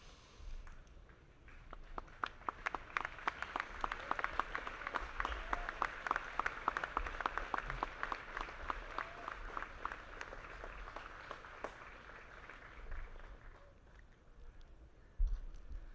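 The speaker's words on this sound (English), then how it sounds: "give your families a round of applause" Graduates at a commencement ceremony applauding their families, a long, even wash of clapping from a sizeable crowd heard from a distance, swelling and then fading away.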